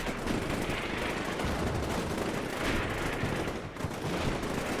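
Dense, sustained gunfire in the tactical war game Combat Mission: Black Sea, with overlapping rapid shots and distant rumbling blasts forming a continuous loud barrage.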